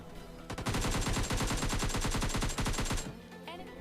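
Rapid automatic gunfire in the mobile battle-royale game PUBG Lite, a sustained burst of evenly spaced shots lasting about two and a half seconds, loud and close, followed by a brief quieter tail.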